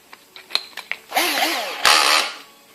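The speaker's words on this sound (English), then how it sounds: "put this in the drill" A power drill spins a headless bolt mounted in a new vise against a grinder, with brief clicks and taps first, then two loud rising whirring bursts close by.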